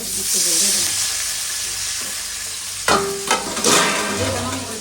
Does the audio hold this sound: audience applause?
no